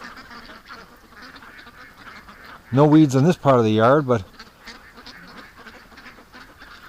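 Backyard ducks let out a close burst of loud, rapid quacks, two short runs in quick succession, while someone talks before and after.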